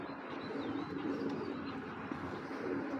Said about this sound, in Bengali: দর্শক এখানে এক জোড়া কবুতর আছে, এইগুলো হলো বিউটি কবুতর